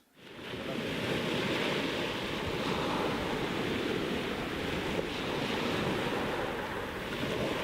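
Waves wash steadily onto the shore at Weybourne Beach on the North Norfolk coast, a continuous loud surf roar with wind buffeting the microphone and no voices.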